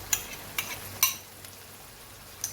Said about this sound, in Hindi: अब इसको हम अच्छे से भूनेंगे